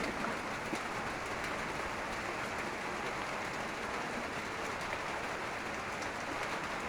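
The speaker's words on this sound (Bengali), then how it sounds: "বৃষ্টি হচ্ছে বৃষ্টির রিমঝিম শব্দ হচ্ছে" Steady rain pattering on a shed roof in a village during the monsoon, heard from underneath as a continuous even hiss with dense patter, close and moderately loud throughout.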